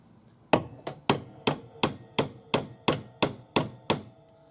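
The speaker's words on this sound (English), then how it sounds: "to just hammer where the mark is" A hammer strikes a forged opal ring held in a vertical vise, flattening marked spots with eleven sharp metallic blows at a steady, even rhythm. The hits are close and clear against a quiet room.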